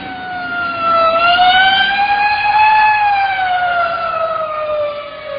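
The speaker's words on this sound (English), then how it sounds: "Hey, a police car." A police car siren wails steadily and loudly with rising and falling pitch, heard alone with no voices.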